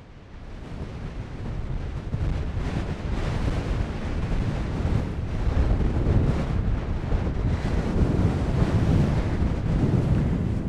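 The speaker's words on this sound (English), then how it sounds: "It's really windy." Strong wind on a mountainside at Wetherlam buffets the microphone in a constant, heavy low roar that swells slightly over time, with no voices.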